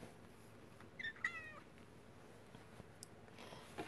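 A pet cat gives a quick pair of short meows indoors, faint and slightly distant against a quiet hiss of room noise, followed by a few soft clicks.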